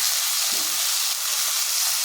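Pointed gourd sautéing in a pan, a steady close hiss and sizzle of frying that continues evenly, with a faint stir-like disturbance partway through.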